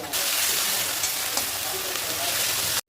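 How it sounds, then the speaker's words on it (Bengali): Ginger garlic paste frying with browned onion paste in hot oil for a chicken dish: a close, loud, unbroken crackling sizzle with small pops throughout, cut off abruptly at the end. "এবার এটা দিয়ে দেবো আদা রসুন পেস্ট"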